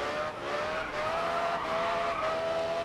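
Tires squeal continuously as a car drifts in the racing game GRID Autosport, a sustained high screech over engine roar, loud and unbroken throughout.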